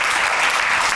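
Audience clapping at a ribbon-cutting event, a steady, dense burst of applause from a crowd filling the whole moment, with no voices standing out.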